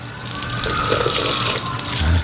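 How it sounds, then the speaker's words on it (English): Water running from a garden hose outdoors, a steady, close, fairly loud gushing stream that holds constant for a couple of seconds, with no talking. "She likes to drink water from the hose"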